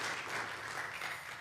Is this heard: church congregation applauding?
yes